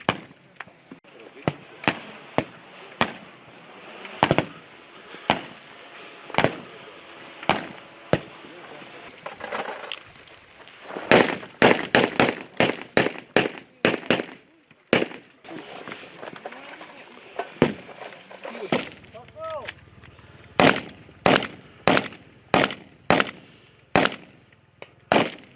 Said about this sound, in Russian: Отрабатываем стрельбу парой в движении в моменте атаки.